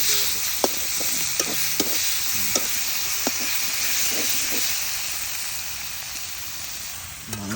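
Spices and chicken pieces sizzle steadily in a hot pan for spicy chicken curry, a bright continuous hiss punctuated by sharp pops and the scrape of stirring, close and moderately loud.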